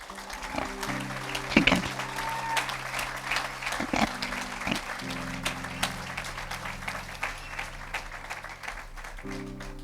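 A church congregation claps during a Christmas sermon, a dense run of applause over about ten seconds with a few sharper bursts, sitting above a low sustained organ or keyboard drone.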